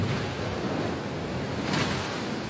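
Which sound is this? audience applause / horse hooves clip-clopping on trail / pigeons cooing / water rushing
water rushing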